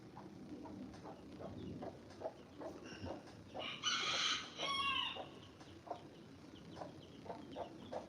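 Chickens on a ranch cluck in short repeated notes, then a rooster crows loudly in the middle before the clucking resumes, all outdoors at moderate distance.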